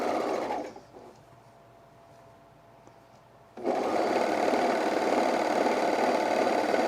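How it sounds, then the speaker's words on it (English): An overlocker serges the edge of fleece fabric, running in a loud, fast, steady whir that stops for a few seconds and then starts again at full speed. "I'm gonna overlock the edge because I'm gonna kind of do the fake flat lock seam hem"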